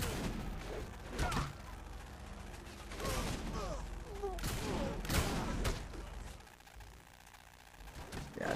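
Shotgun fire in the video game Saints Row: The Third: a string of sharp, booming blasts at irregular intervals, with mechanical clatter and a busy in-game background between shots.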